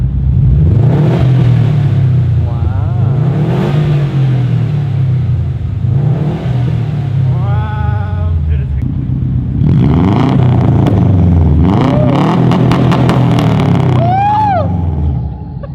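A Subaru engine fitted with a Tomei Expreme Ti titanium exhaust revs hard again and again toward redline, loud and close, the deep rumbling burble rising and falling in repeated swells with a raspy crackle near the top.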